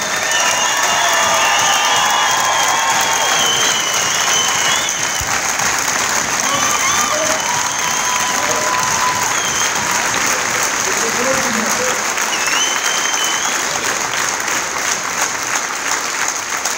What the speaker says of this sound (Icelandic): Ég held að við ætlum að standa upp og klappa hressilega fyrir þeim núna bara.